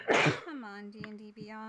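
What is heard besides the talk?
sneeze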